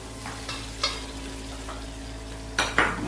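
Egg fried rice stir-fried in a pan, with a soft steady sizzle under scattered scrapes and clinks of a spatula against the pan, two louder strikes near the end.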